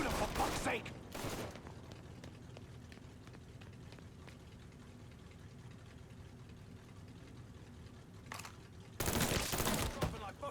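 Gunfire in the crime shooter game Mafia III: a loud burst of shots at the start, another a second later, then quieter action sounds and engine hum, and a final heavy volley near the end.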